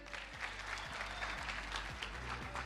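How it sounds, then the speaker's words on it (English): Sustained audience applause at a national ICT summit honoring a young speaker, steady dense clapping from a crowd over a low background hum. "Please give her a round of applause."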